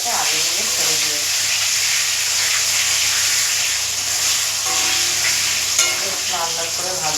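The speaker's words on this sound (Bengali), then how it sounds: "তুলে নিয়ে কড়াই যে তেলটা ছিল সেই তেলটাতে আলুগুলো ছেড়ে দিয়েছি।" Potatoes frying in oil left in a wok after frying katla fish, a loud continuous hissing sizzle close up, with a voice talking faintly underneath.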